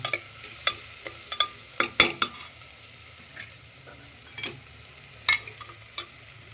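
Spices with coriander powder, turmeric and salt being mixed in a pan for soybean pulao: scattered sharp scrapes and taps of a spoon against the pan over a faint low sizzle, with quieter gaps between strokes.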